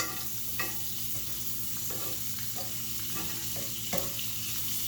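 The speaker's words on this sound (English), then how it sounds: "Bacon's doing good, it's cooking, that's how I like it." Bacon frying in a pan alongside shrimp, a constant loud sizzle and crackle with occasional clicks and scrapes of turning or stirring, close up and without voices.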